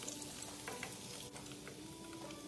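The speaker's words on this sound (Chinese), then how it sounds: "接着再将剩下的肉块继续油炸至全部完成" Pork belly pieces for palm sugar char siu deep-fry in a pot of oil, making a faint, continuous bubbling sizzle with tiny crackles and no voices.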